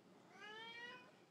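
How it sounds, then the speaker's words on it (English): A cat meows loudly and close by, a single drawn-out call lasting about a second, with no talking over it. "You're such a loud kitty."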